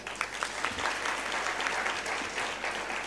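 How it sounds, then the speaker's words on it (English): Loud, dense applause from an audience at a kindergarten (UKG) convocation ceremony, steady clapping filling the hall without pause for about three seconds. "I think they need a loud applause."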